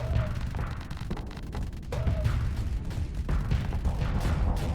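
A long-range plasma cannon fires in the space combat game Starsector, a rapid string of sharp booming impacts and blasts rolling over a dense battle rumble.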